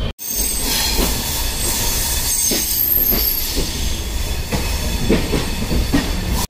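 A passenger train on the Mumbai to Aurangabad route under way, with a loud continuous rumble of wheels on rails, faint clatter and high squealing from the wheels, close and steady throughout with no voices.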